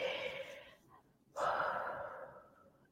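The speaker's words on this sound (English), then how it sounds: "I will probably be doing a lot of that deep breathing" Slow, deep breathing close to the microphone: a long exhale fades out, a short pause follows, then a strong inhale or exhale rushes in and gradually tails away.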